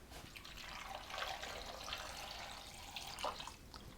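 Water runs steadily into a pot of potatoes for a few seconds, a continuous splashing pour with a fairly even level throughout.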